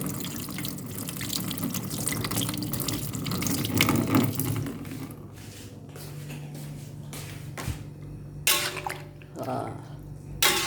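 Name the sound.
washing dried tamarind slices under running tap water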